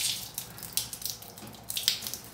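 Water splashes and trickles close by as a leg is washed with homemade black African soap, coming in soft, uneven bursts with a steady wet hiss between them.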